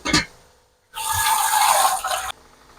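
Water is poured into beef karahi browning in a pot for a sehri dish, giving a steady, close, hissing and splashing rush that lasts over a second after a brief sizzle and then stops abruptly.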